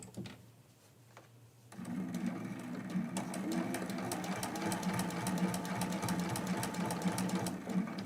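After a quiet start, a sewing machine stitches quilt block pieces, its close, rapid, even needle rhythm running steadily to the end.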